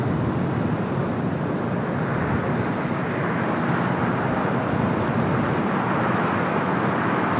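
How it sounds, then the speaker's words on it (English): Qantas Boeing 787-9 Dreamliner being pushed back at LAX, heard as a broad steady jet engine roar with a low rumble, moderately loud and even throughout, with faint wind and traffic noise mixed in. "It's Qantas Flight 16 heading back to Brisbane on the 787-9 Dreamliner."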